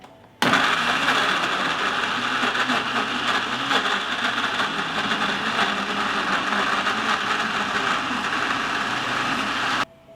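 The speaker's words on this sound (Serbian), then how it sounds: "I oprane i očišćene jagode stavljam u blender." A blender chops washed, hulled strawberries: the motor kicks in abruptly, whirs at a steady, loud, even pitch for about nine seconds, then cuts off sharply.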